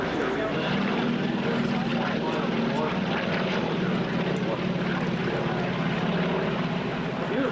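Navy aircraft fly overhead in formation at a beach air show, a steady droning engine roar spread across the sky, with people talking nearby throughout.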